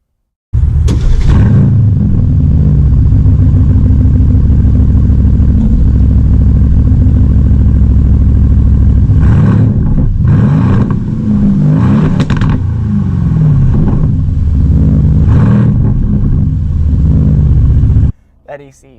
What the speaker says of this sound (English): I'm turning on the car because it's hot in here